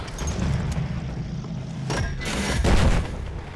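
Torpedo strike on a target in Battlefield 1: a loud, rumbling explosion with deep, sustained low booms and a swelling blast near the end, heavy and close.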